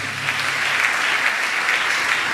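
A church congregation bursts into sustained applause, a dense, even clapping that holds steady throughout.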